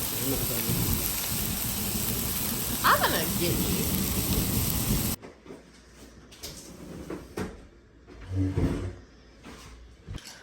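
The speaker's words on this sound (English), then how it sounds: "Do you hear this thunder?" Heavy rain roars steadily with rumbling thunder, then the downpour cuts to a quieter backdrop with scattered knocks and a brief spoken line.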